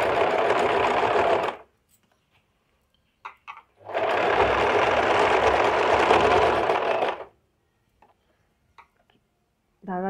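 Sewing machine stitching fabric while the material is pulled through, in two long loud runs of rapid steady stitching separated by quiet pauses, with a few faint clicks between and at the end.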